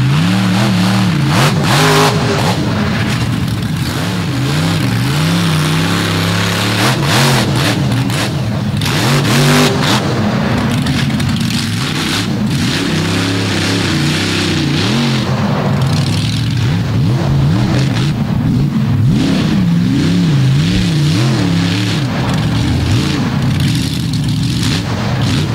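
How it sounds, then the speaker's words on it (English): A loud drag racing truck with short exhaust pipes roars at a drag strip, its engine rumbling and revving continuously with deep pulsing bursts and no voices over it. "Loudest truck on the premises with those short pipes."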